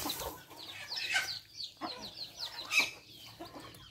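Chickens and newly hatched chicks in a backyard poultry coop, with high chirps and clucks that repeat closely and sound fairly near.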